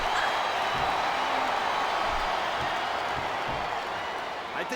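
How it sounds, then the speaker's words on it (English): A WWE wrestling video game crowd gives a steady, dense roar that fills the whole stretch at an even level, with no distinct claps or shouts standing out. "I think these superstars are getting some feedback from the crowd, JR."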